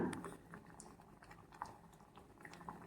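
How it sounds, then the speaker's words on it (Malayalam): A pot of pumpkin and lentil curry bubbles at a gentle boil, soft irregular pops and blips over a quiet background, faint and close, with no speech. "കറി ഇപ്പോൾ നന്നായി തിളച്ച് വന്നിട്ടുണ്ട്"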